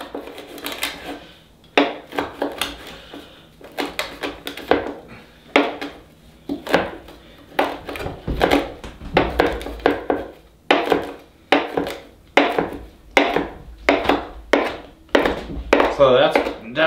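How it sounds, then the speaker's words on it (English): A knife chops fresh thyme on a wooden cutting board for a Santa Maria tri-tip rub, with steady, rapid knocks close up that keep going in quick bursts. "what we're going to do is chop up this thyme"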